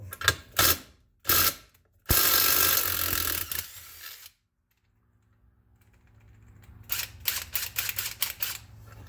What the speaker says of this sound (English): Take our bolts out.